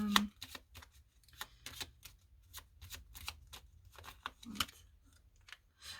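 Tarot cards being shuffled close up, a quick series of crisp riffling snaps and soft slaps in an irregular rhythm, quiet and alone.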